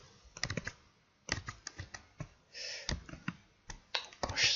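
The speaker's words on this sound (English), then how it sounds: "I'll right click and copy." Clicks from a computer mouse and keyboard while copying in Google Docs: quick bursts of sharp, close clicks and key taps separated by short pauses, with a brief softer rustle in the middle and no voices.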